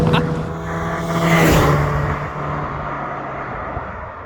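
A Peugeot 205 Rallye hatchback drives and accelerates, its engine a steady close hum and rumble with a brief swelling rush midway, heard from inside the car with a voice speaking briefly.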